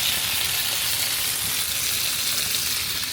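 BBQ chicken sizzles on a Ninja Sizzle grill, a steady, even hiss of frying fat and juices held close and loud throughout, with no talking over it.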